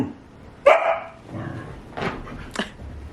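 A five-month-old Golden Retriever puppy lets out a few sharp, loud barks and yips close by, spaced irregularly over a few seconds with quieter indoor background between them.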